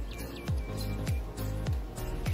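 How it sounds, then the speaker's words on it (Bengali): Birds call from the trees around a tree house on a rainy day, each note a quick downward sweep repeating roughly every half second, clear and fairly near over a steady background hum. "পাখিগুলো কি সুন্দর ডাকছে।"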